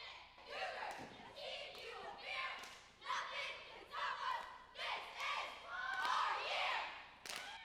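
High school cheerleaders at a game shout a loud, rhythmic group cheer in unison, with bursts of voices, thumps of landing feet and crowd noise echoing in a large gym.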